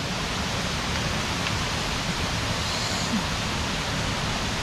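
A waterfall in Santa Catarina, Brazil, pours in a constant broadband roar of falling water, steady and fairly loud throughout with no voices.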